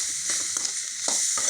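Tomato and onion sauté in a pan for a spicy chutney, with a close, continuous sizzle and several quick stirring scrapes. No one speaks.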